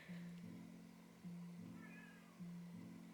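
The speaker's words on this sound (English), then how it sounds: "My cat's screaming again." A cat meows loudly three times in an evenly spaced series of drawn-out, rising cries in a quiet indoor room.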